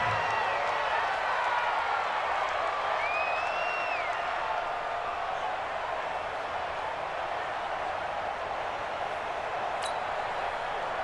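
A stadium crowd in a Madden football video game, Texans against Redskins, makes a steady, even roar that holds at one level throughout.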